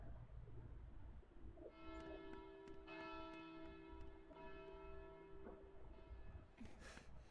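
A resonant bell tolls in the video game Kingdom Hearts Birth By Sleep. Several ringing strikes with long sustained tones overlap across the middle of the clip over a low ambient hum and fade out near the end.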